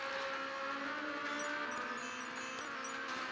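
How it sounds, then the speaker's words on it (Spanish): A rally-style buggy engine from the mobile game Beach Buggy Blitz, upgraded to Rally Pro, hums at a steady, even pitch with a bright high whine. The loop is continuous and unbroken. "Y el sonido del auto es genial."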